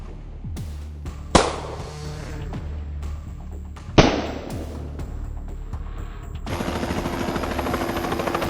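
A hog-hunting helicopter's rotor thumps steadily, with two sharp loud cracks partway through and a harsher rushing engine roar building toward the end.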